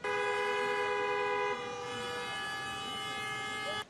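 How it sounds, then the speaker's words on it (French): Several car horns blare together in a long, steady chord at a busy petrol station queue, holding loud and continuous before one drops out midway and the rest cut off abruptly. "Des files d'attente interminables, bercées par la douce mélodie des klaxons."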